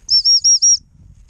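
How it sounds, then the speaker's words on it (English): Four quick, shrill pips from a dog training whistle, blown to recall a gundog outdoors, sound in an even rhythm, loud and clear, then give way to faint background noise. "See if I can call her back with the whistle."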